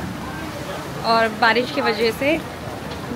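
Steady rain falls on the grounds of a Tanabata festival in Japan lined with food stalls, a constant patter under a brief stretch of close speech in the middle.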